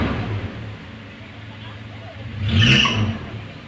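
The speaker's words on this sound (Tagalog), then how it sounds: "Tumataas yung idle kapag pinihit natin." A used car's engine idling, then its revs climbing in one swell as the throttle is turned, a steady running drone with a voice talking over it.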